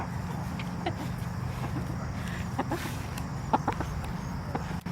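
Chickens cluck softly in a homestead yard, with scattered short calls over a steady outdoor background. The clucks stay faint to moderate and fairly distant, and no one speaks.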